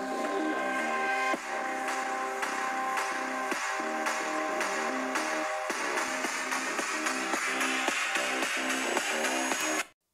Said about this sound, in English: We've got downward firing speakers on this model, and they sound like this.